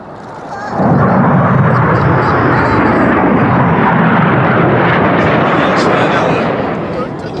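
Red Arrows jets in a display manoeuvre roar overhead, a loud, broad rushing jet noise that swells in after a moment and holds steady, with a commentator's voice under it.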